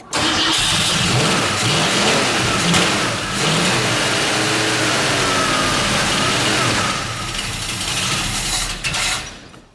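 An engine with a freshly rebuilt, untuned carburettor cranks and catches, then runs rough and revs unevenly for several seconds before cutting off near the end; loud and close, no voices.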